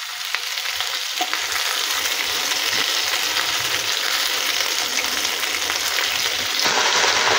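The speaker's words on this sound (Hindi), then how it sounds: "एटा को हाई फ्लेम रे 2 मिनिट पई टिके फ्राई कर दबा" Chicken with red capsicum fries on a high flame for Indo-Chinese chilli chicken, giving a loud, steady close sizzle with stirring scrapes throughout, no voices.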